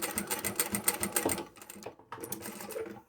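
Sewing machine stitching scrap fabric for a small coin pouch, a rapid loud mechanical chatter that pauses briefly, then resumes in a short final burst.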